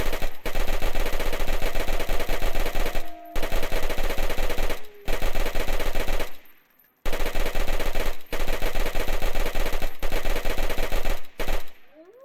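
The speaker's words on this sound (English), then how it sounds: "You can shoot them right in the head." Automatic gunfire from a weapon in the video game DayZ, mowing down zombies in loud, sustained rapid bursts separated by a few brief pauses, with no talking.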